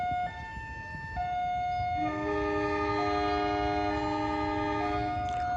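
Passenger train Ranggajati departing Probolinggo station, its horn sounding in sustained multi-tone blasts that shift pitch and swell louder, nearby and alone over a low rumbling rail background.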